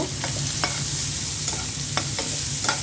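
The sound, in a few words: frying shrimp with onion, garlic and dried chillies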